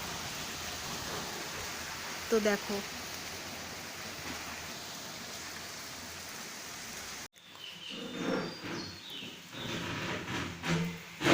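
Steady rain falls outside for about seven seconds as a loud, even hiss, then cuts off abruptly to a quieter room where a person speaks briefly.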